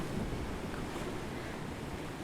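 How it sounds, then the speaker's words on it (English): Soft, steady ocean surf washing in continuously at low volume, a broad hissing rush of waves with some wind noise and no voices. "here's some ocean sounds"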